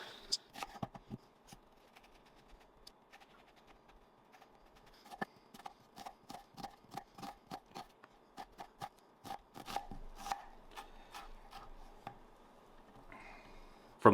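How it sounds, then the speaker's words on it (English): A knife chops an onion on a cutting board in a run of quick, regular taps that speed up toward the end, close and fairly quiet over a soft background hum. "Now we have an onion. I'm going to go ahead and slice this up real thin and just to nice little dices."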